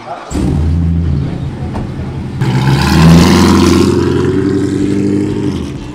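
A Fiat Multipla with an automatic gearbox and about 1294 hp accelerates, its loud engine drone building and then surging higher in pitch partway through while people talk over it.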